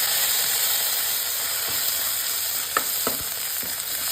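Ginger garlic paste fries in ghee with a steady, close sizzling hiss throughout, broken by a few soft clicks of a utensil against the pan.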